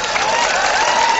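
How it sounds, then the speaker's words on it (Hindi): Crowd applause at a Hindi poetry recital, steady loud clapping from a large audience sustained throughout. "एक बार ताली बजाओ तो देखें तो"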